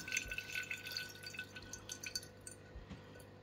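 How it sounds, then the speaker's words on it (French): Water rinses potting substrate from young Alocasia plants over a pot with holes, falling in soft, irregular drips and trickles, faint and close, with no talk. "On se met au-dessus d'un pognon troué pour pas en foutre partout parce qu'on n'est pas au-dessus de l'évier. Et on rince bien le substrat."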